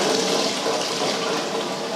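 Water drained from a pot of boiled cabbage, a steady loud rush of pouring liquid splashing continuously for two seconds with nothing else heard.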